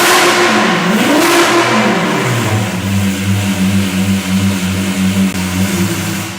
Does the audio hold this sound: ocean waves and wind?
no